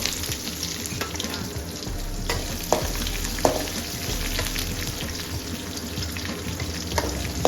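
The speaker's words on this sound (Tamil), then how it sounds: "ஒரு 10 பல்லு பூண்டு அதையும் வந்து தாளித்து சேர்த்து போகிறோம்." Garlic cloves and shallots sizzle steadily in hot tempering oil, a continuous close frying crackle with occasional sharper pops and stirring scrapes, no voices.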